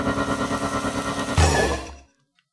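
A designed magic spell sound effect built partly from toilet sounds: a pulsing, wavering tonal drone that bursts into a brighter, noisier swell before cutting off abruptly into silence.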